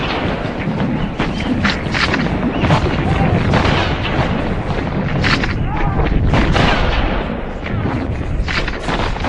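Gunfire and artillery in Gallipoli trench-war footage sound as dense, continuous booms and cracks, loud and unbroken throughout.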